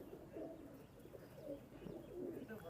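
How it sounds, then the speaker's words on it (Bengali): A pair of golden pigeons in a loft coo softly in low, murmuring, overlapping rolls, steady and faint throughout. "এই জোড়া গোল্ডেন কবুতর ভাই"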